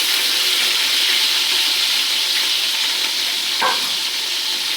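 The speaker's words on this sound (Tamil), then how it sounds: "நல்லா ஒரு வதக்கம் வதக்கிட்டுருவோம்." Ground shallots sizzle steadily in a hot pan for Manamadurai-style mutton biryani, a loud, continuous frying hiss with one brief stirring scrape near the end.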